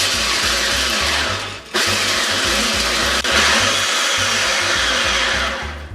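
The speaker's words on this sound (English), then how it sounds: "Put them into a food processor or a blender." A blender whirs loudly and steadily in short bursts, grinding salted peanuts, with two brief pauses between runs.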